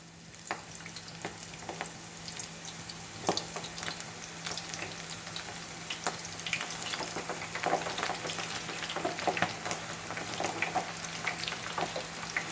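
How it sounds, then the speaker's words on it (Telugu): Pakoda batter fritters frying in hot oil give a steady close sizzle with scattered pops and crackles, plus occasional stirring scrapes, with no speech throughout. "వేసేస్తున్నాను ఇంకా చాలా ఈజీ అసలుకి పకోడీ వేసుకోవడం అనేది"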